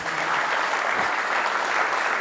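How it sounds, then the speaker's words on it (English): Steady applause from a conference audience after a speaker's session, dense and continuous clapping filling the whole moment. "Can I get a big round of applause for our speaker"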